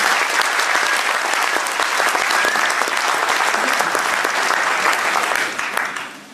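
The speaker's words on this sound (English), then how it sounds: "Give the Drum a warm round of applause." Loud, dense applause from a large crowd, sustained throughout, then tapering off at the very end.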